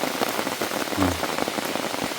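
Heavy rain pours down in a mountain forest, a dense, loud, continuous hiss of drops striking surfaces nearby, with no pauses.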